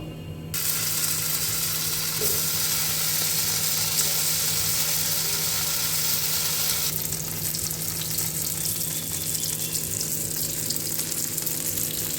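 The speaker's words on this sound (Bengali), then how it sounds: "কড়াইতে আমি তেল দিয়ে দিয়েছি, তেলটা গরমও হয়ে গেছে। এবার আমি আস্তে আস্তে ভেজে নেব" Paneer fries slowly in hot oil in a wok, giving a steady, close hiss and sizzle throughout with no talking.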